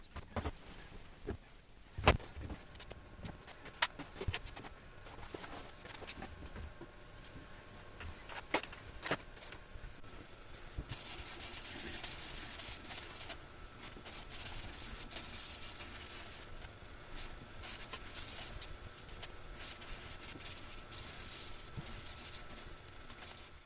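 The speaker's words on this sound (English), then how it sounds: "next step, sanding this blade clean," Sanding a chef's knife blade clean, heard as a steady, close, continuous abrasive rubbing that continues throughout, with a brighter, harsher tone in the second half and occasional knocks early on.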